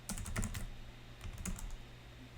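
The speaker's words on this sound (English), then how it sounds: "If I can type." Keys clatter on a computer keyboard in a quick run of close, distinct taps, a short pause, then a few more strokes, with no talking over them.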